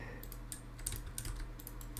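Quick, light clicks of a computer keyboard being typed on during a Toilet Tower Defense gaming session, irregular bursts of keystrokes at close range with a faint background hum.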